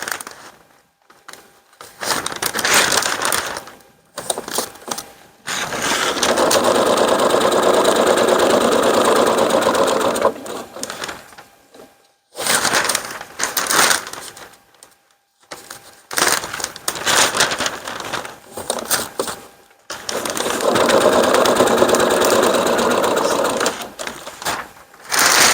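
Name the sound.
sewing machine stitching ripstop fabric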